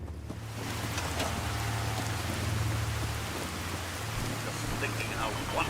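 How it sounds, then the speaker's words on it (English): Steady rain falls in Fallout 4, a continuous hiss of drops spattering on surfaces under a low rumble, with faint sounds of movement and no clear speech. "Just thinking how wonderful it would be to get out of this infernal rain."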